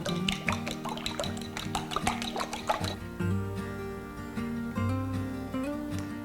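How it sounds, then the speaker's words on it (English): Egg mixture with herbs, kosher salt and pepper being stirred for a frittata, close wet squishing and clinking in quick strokes at first, then slower sloshing over a steady background. "Give that a good stir."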